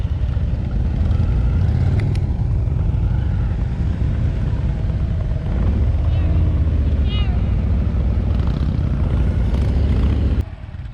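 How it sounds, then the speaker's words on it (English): A brand new Indian Challenger motorcycle ridden at very low speed with the clutch engaged, its deep engine rumble steady and close throughout before dropping off abruptly near the end, with a voice faintly underneath. "This is the very first time through on a brand new Indian Challenger"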